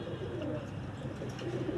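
Pigeons coo with soft, low, repeated calls, fairly close and without voices.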